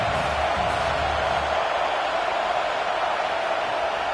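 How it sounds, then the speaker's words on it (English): Steady roar of a large college football stadium crowd, a continuous wash of noise with no distinct voices standing out. "This crowd bringing the energy and noise early"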